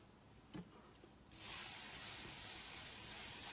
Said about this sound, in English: Now I'm gonna hairspray.